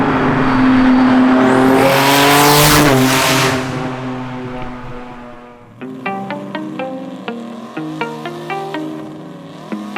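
The engine of an 1100 bhp R35 GT-R-powered Nissan Navara screams at high revs, pitch sweeping up and down, then settles into sharp, choppy bursts of throttle blips.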